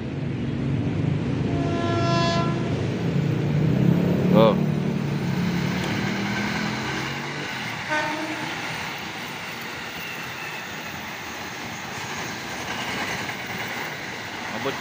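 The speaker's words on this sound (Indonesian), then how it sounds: "Oke, kereta komuter lain lagi nih." Commuter train rolling past a station near Kampung Bandan, with a horn blast around the four-second mark and steady rumbling rail noise throughout, loud and close, alongside a brief exclamation.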